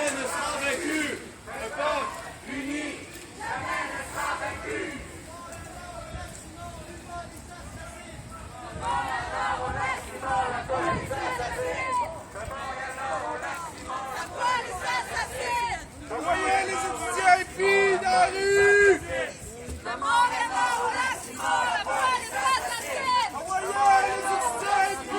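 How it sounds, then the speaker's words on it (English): A crowd of street protesters at a march against a police killing chants together, a rhythmic mass of voices rising and falling at mid-distance, with scattered chatter and crowd noise in between. "a familiar chant coming from the crowd"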